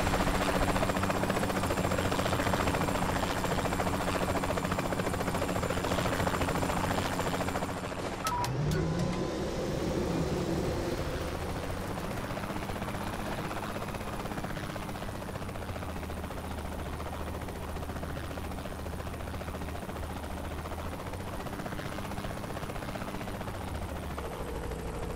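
Helicopter in the video game Saints Row The Third, a steady dense rotor-and-engine drone filling the whole stretch, with a brief clatter partway through that could be game gunfire or impact.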